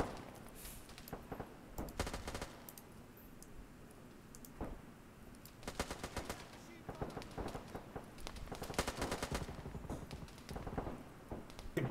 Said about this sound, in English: I like that Thompson sound.